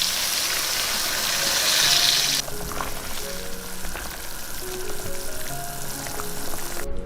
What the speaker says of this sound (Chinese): 接着把调好的酱加进来， 炒香了之后加入开水